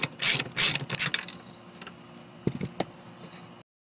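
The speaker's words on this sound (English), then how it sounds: "We're gonna use a 10 millimeter socket to unscrew this." Ratchet turning a 10 mm socket to unscrew a bolt inside a Mercedes-Benz GL450, with three close, loud clicking bursts at the start, followed by fainter scattered clicks and a couple of sharp taps.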